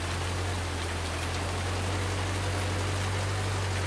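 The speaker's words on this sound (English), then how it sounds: "I cannot believe it's taken me how long for the game to be out to see and hear rain." Steady rain falls in Farming Simulator 19 as a dense, even hiss over a constant low drone, with no speech.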